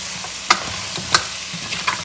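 A spoon stirs a spicy curry mixture in a pan, giving a soft continuous sizzle with a few sharp scraping clinks against the metal.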